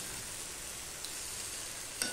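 Cabbage with coriander leaves is stirred in a hot wok, giving a soft, steady sizzling hiss with a couple of faint clicks of the spatula against the pan.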